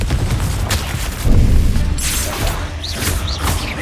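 Confringo blasting spell explosions in Hogwarts Legacy, loud, close booming bursts with crackling impacts over a steady rumble, one big blast around the middle and further whooshing hits after it.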